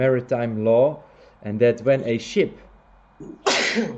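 A single sharp sneeze bursts out close by at the end, after someone speaks.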